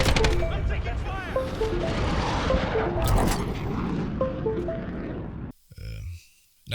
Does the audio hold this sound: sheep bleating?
no